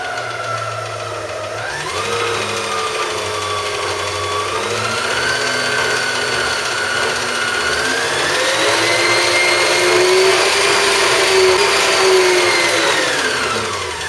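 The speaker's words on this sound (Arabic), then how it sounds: "ثم الآن نخفق على سرعة بطيئة لكن لثواني معدودة حتى لا نفقد تركيبة بياض البيض والصفار" A loud electric mixer whisks flour into genoise egg batter, its motor whining steadily and rising in pitch as the speed changes, running alone throughout.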